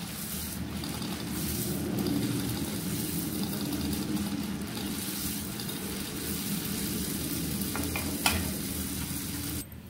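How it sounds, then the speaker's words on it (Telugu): Rose cookies, a crisp flower-shaped batter snack, frying in hot oil in a pot, giving a steady close bubbling sizzle throughout with occasional light stirring clinks and a faint sharp tap near the end. "దీన్ని ఇలా ఆయిల్లో వేసేసుకోవాలి"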